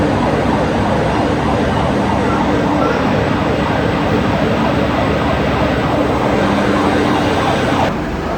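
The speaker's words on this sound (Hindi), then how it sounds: "ये आ गई दोस्तों आप लोगों की हमसफर एक्सप्रेस" Humsafar Express train on the Prayagraj–Anand Vihar route arriving at a station: a loud, continuous rumble and clatter of the train rolling in, with a steady tone running through it, holding level throughout before cutting off at the end.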